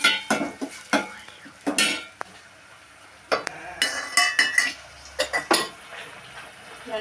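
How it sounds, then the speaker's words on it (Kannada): Chopped tomato is stirred and fried in a pan, with bursts of utensil scraping and clinks against metal over a faint sizzle, coming in irregular clusters separated by short quieter gaps. "ಚೆನ್ನಾಗಿ ಮೆತ್ತಗೆ ಫ್ರೈ ಮಾಡ್ಕೋಬೇಕಿದೆ."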